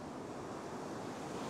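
Ocean surf rolling and breaking onto a weedy fishing beach, a steady continuous wash of waves with some wind noise over the microphone, no voices.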